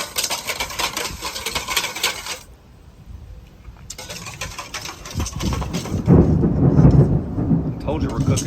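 Thunder from a storm rolls in during outdoor cooking on a flat top grill, a deep rumble building after a brief lull and swelling loudly near the end over rain and background noise.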